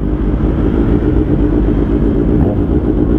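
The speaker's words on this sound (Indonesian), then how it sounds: "Bacot sekali knalpot kita." Deep, loud exhaust roar from a group of about thirteen Kawasaki Ninja H2 motorcycles riding together, a steady droning rumble held throughout with no talk.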